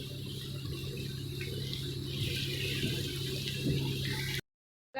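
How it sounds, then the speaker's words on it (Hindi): Onions frying in a pan for tarka dal, giving a steady, close hissing sizzle that carries on without a break and then cuts off abruptly near the end. "प्याज यहाँ पे बड़ा ज़बरदस्त सा फ्राई हो रहा है"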